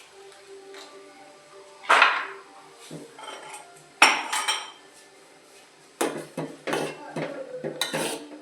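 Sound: adding Maggi masala to noodles cooking in a pan

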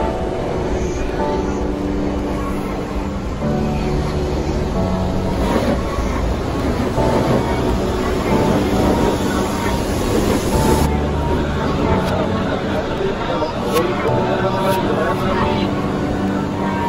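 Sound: Japanese Shinkansen bullet train running at full speed

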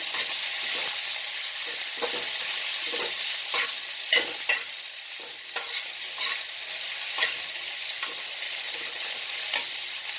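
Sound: onion frying in oil while being stirred

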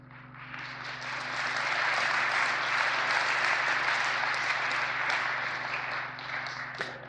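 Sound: audience applauding

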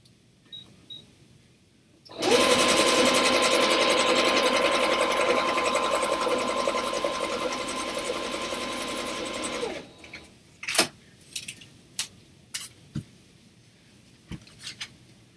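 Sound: sewing machine stitching

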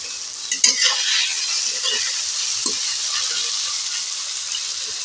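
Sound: frying tomatoes and green chillies in a pan

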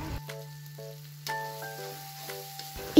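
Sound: sautéing spice paste in oil in a frying pan

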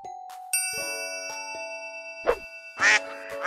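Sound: duck quacking

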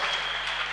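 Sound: church congregation applause

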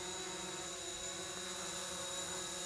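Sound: drone flying toward the people in a workshop

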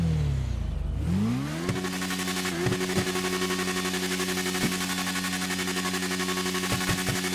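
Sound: motorcycle accelerating in video game GTA 5

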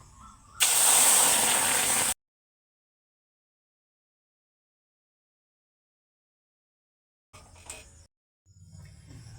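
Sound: milk poured into fried semolina hissing in pan

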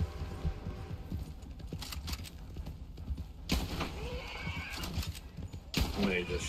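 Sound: horse neighing in video game Red Dead Online

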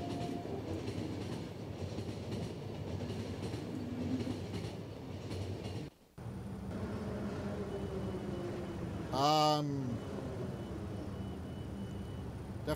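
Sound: train arriving at a station in video game The Final Station

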